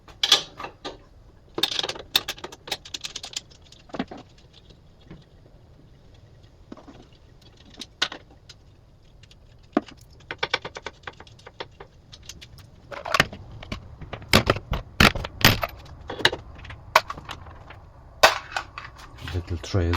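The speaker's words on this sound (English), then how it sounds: "For this last bolt I'll need a spanner. I do like them offset ring spanners." An offset ring spanner works a bolt loose on a BMW N46B20 engine during a valvetronic motor replacement, giving irregular sharp metallic clicks and clanks that grow denser toward the end.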